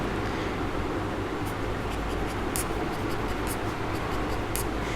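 A teacher draws a circuit diagram, producing faint, scratchy pen-like strokes in short bursts over a quiet room hiss.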